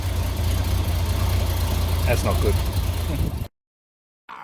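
An XG Ford sedan engine idles with a steady low rumble while exhaust leaks at the catalytic converter, loud and close for about three and a half seconds before a sudden cut, with a voice briefly speaking over it.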